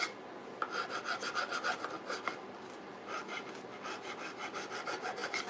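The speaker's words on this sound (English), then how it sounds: "And then we'll get a bit of sandpaper going on." Sandpaper rubs steadily over a wooden handsaw handle in a continuous rasping scrape with repeated back-and-forth strokes, close and fairly loud, with no talk.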